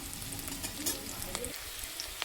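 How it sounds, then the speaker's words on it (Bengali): Green chili and onion frying in oil in a kadai while being stirred, a steady sizzle with scattered crackles and pops that drops slightly in the lower range near the end. "এখানে কাঁচা লঙ্কা আমি দিলাম দিয়ে এটাকে একটু হালকা নেড়ে চেড়ে একটু লাল লাল হবে পেঁয়াজটা"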